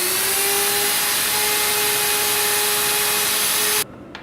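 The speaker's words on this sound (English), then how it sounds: "drill the locking screw to its appropriate depth" A surgical drill whirs steadily at a high, constant pitch while boring a locking screw hole through a bone plate, loud and close, then cuts off abruptly near the end.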